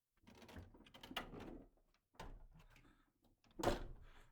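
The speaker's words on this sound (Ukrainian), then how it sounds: "Так, закриємо двері, щоб ніхто не зайшов у нас." A door in a house is pushed shut, with shuffling and handling sounds leading into a sharp close thud near the end, fairly close in a quiet room.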